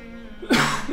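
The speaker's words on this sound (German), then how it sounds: "erstmal husten" A single sharp cough bursts out about halfway through, close and fairly loud, over a low steady hum of background game audio in The Witcher 3.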